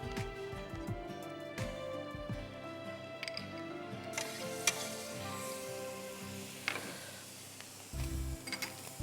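Chicken sandwich grilling in butter on a stove, a soft continuous sizzle with scattered clinks and scrapes of utensils, close and fairly quiet.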